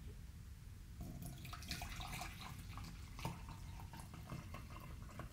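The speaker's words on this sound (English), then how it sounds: "I'm just going to pour myself a cup of tea." Tea poured into a cup: a close, gentle trickle of liquid with small splashy bursts, running steadily for several seconds at low volume with no talking.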